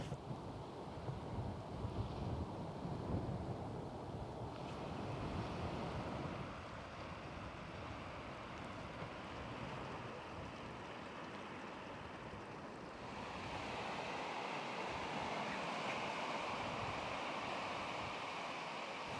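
Waves wash onto the sand at Treco Bay beach in Porthcawl, a continuous roar of surf mixed with wind buffeting, fairly faint and steady with shifting intensity.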